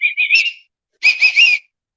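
A person whistles to call a dog, two short bursts of rising and falling trilled notes, loud and close, separated by a brief pause.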